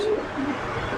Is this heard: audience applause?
no